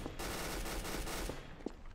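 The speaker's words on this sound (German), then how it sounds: "Ich höre als Schüsse hier." Rapid gunfire in the Trouble in Terrorist Town video game, a dense, continuous burst of shots filling the whole stretch, loud and close, with a sharper single crack near the end.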